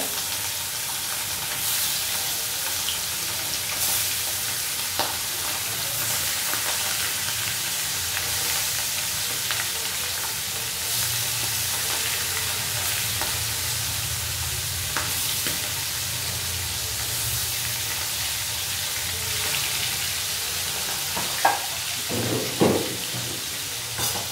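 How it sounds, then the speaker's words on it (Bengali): Hilsa fish pieces rubbed with turmeric, chili and salt fry in hot oil, a broad continuous sizzle with occasional stirring and a few sharper clatters near the end, steady and close, no voices. "হলুদ মরিচ লবণ মাখায় নিলাম, মাছগুলো এখন ভেজে নিব।"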